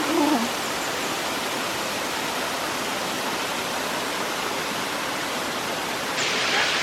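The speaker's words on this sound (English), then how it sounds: "We've reached Burgbach Waterfall in the Black Forest." Burgbach Waterfall in the Black Forest roars as a dense, steady rushing wash of falling water, heard close up and fairly loud throughout with no talking.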